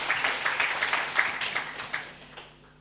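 Audience applause at a civil-servant learning festival in Malang, a crowd of many hands clapping in a dense, steady patter for under three seconds before tapering off.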